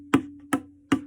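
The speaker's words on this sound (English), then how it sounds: "Another sound would be this sound called ti." Three crisp tabla ti strokes land at a steady spacing, each a bright slap with a short ringing tail, close and clear with nothing else audible.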